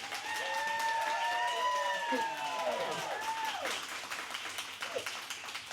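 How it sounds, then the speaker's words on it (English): A studio audience at a music and memories show claps and screams, a dense roar of applause with shrill cheering, loudest at the start and easing off slightly toward the end. "so would y'all clap and scream?"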